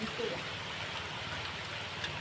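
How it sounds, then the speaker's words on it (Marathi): Rain falls steadily in hilly countryside, making a dense, even hiss that fills the short stretch without a break. "आता सध्या पाऊस आलेला आहे तर स्टॉप घेतो"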